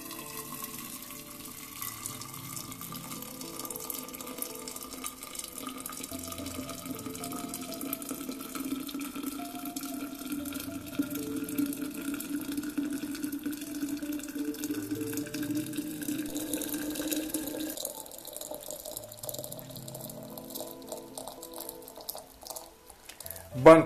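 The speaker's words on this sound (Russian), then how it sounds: "И теперь завариваем донник крутым кипятком." Boiling water is poured from a kettle over dried yellow sweet clover in a glass jar set on a pot holder, a steady close pouring rush lasting about eighteen seconds before stopping, with faint clinks after.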